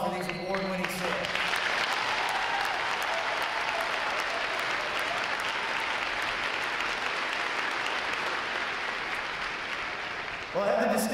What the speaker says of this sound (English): Give again another round of applause for these award-winning sailors.